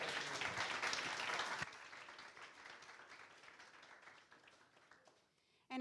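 Audience applause at a university graduation ceremony on a Barcelona campus, dense and loud at first, then thinning and fading into softer scattered clapping before a voice cuts in at the end.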